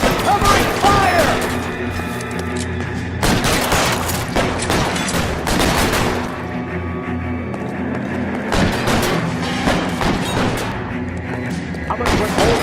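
Repeated bursts of gunfire in an L.A. Noire shootout, loud and dense over much of the stretch, with booming shots and rapid volleys under intermittent voices.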